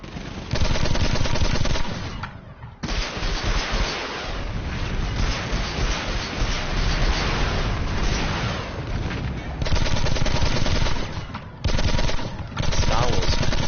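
Gunfire in the video game Planetside 2: loud, sustained automatic bursts rattle almost nonstop, broken by a few brief pauses.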